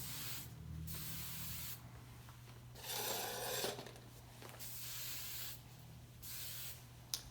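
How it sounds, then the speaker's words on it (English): Hairspray hisses in several close bursts over a freshly pinned updo, each spray lasting about a second with short pauses between, the longest and loudest burst coming in the middle. "now we're gonna spray it with hairspray"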